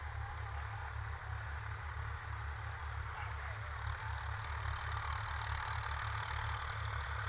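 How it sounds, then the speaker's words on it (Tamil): A tractor ploughing a farm field holds a steady low, chugging engine drone with a faint rhythmic beat, moderately distant and continuous throughout. "இங்கே பாருங்கள், டிராக்டர் ஓட்டிக்கிட்டு இருக்குது."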